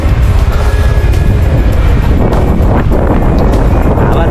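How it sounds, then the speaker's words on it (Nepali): Wind blowing by the Dudh Koshi river, a continuous loud rushing roar buffeting steadily throughout. "हावा चल्दैछ यहाँबाट सरर"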